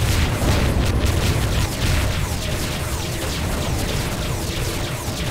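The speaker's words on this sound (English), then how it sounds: "Ah, man, their bombs make huge explosions." Dense, loud rumbling blasts and crackling booms run continuously, a chaotic wall of bomb explosions in FreeSpace 2 with no pause.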